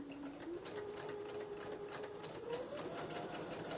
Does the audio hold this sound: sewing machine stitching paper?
yes